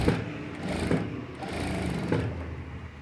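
A sewing machine stitches a princess-back blouse in steady, continuous whirring bursts, with brief pauses and a few sharper clicks, loud and close with no talking.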